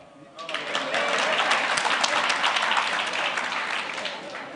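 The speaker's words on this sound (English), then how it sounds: "This is where you clap." An audience at a national conference breaks into sustained clapping after a short quiet lead-in, a dense wash of many hands that holds steady and fades only slightly, with some voices mixed in.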